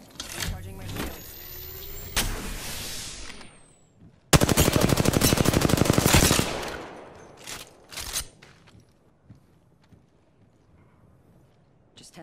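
Bursts of rapid automatic gunfire aimed at the player in a sci-fi shooter game, with a sustained loud volley in the middle and scattered shots and effects around it, close and dominant.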